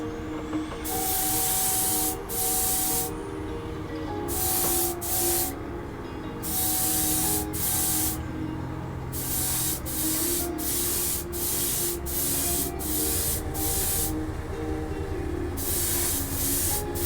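Silver spray paint hisses from a can in repeated loud bursts of one to two seconds, separated by short pauses, as a full coat goes on around a plastic model car body of an MPC 10th Anniversary Trans Am kit.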